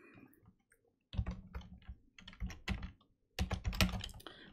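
Computer keyboard typing comes in two close bursts of rapid clicking keystrokes with short pauses in between, in a quiet room with no talk.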